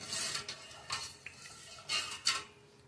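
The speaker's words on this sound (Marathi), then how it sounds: "साखर वितळेपर्यंत आपण हलवत राहणार आहोत।" A spoon stirs sugar syrup in a pot over the stove while the sugar melts, making intermittent scraping and clinking strokes against the metal, close and moderately loud, with quiet gaps between them.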